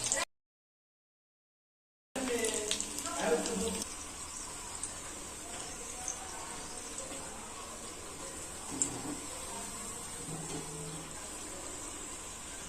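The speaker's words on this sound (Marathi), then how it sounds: "दोन तीन वेळा आपल्याला अशा ह्या पलटी करायच्यात, म्हणजे दोन्ही बाजूनी चांगल्या तळल्या जातील" Chakli spirals made from bhajni flour deep-frying in hot oil for Diwali snacks, a steady broadband sizzle and bubbling that runs after a short silent gap, with a few light clinks and scrapes as they are turned.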